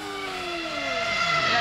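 Formula 1 car on track at the Hungaroring, 2007 practice session, Hamilton closing on a Spyker: a steady engine whine with falling pitch sweeps as a car passes, constant loud drone throughout, no talk.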